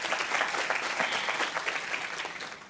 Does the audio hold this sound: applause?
yes